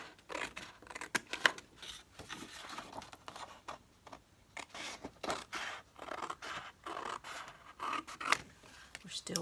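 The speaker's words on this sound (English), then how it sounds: "I'm just gonna hope for the best and just trim it with my scissors." Scissors trimming a paper piece for a crossword collage craft project: soft, close, rapid snipping and scraping in a quiet room, continuous small cuts with faint rustles, while a person speaks quietly at times.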